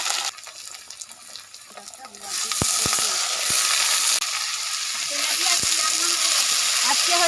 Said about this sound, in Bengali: এই আলু দিয়ে দিলাম তেলে।